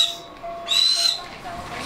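A snowy owl at a zoo gives a short, loud, high whistling screech with a second brief call, close by and over faint background ambience.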